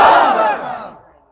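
A large crowd at a Bangla Islamic waz gathering shouts a takbir chant in one loud, unified roar that fades away over about a second.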